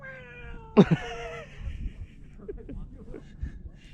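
A person voices a loud, drawn-out meow, a clear imitation of a cat, followed by quieter rustling and faint mumbled sounds.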